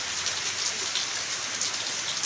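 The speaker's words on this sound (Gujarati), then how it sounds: "ધોધમાર વરસાદ પડી રહ્યો છે" Heavy monsoon rain pours down on a village, giving a steady, full hiss of rain on surfaces with dense patter and slight swells in intensity. It is close and continuous, with no voices.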